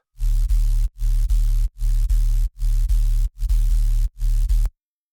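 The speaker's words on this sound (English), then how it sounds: "sub bass right here. Sounds like this." A deep, loud dubstep sub bass synth plays in six evenly spaced pulses, each cut short by a brief gap, with no other instruments.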